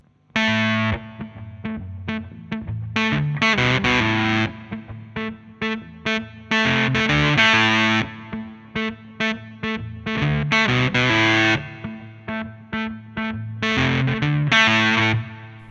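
Electric guitar through a Warm Audio Foxy Tone Box octave fuzz pedal with a harsh, buzzy square-wave fuzz tone, played in choppy riffs with short breaks between phrases; loud and upfront, no voices.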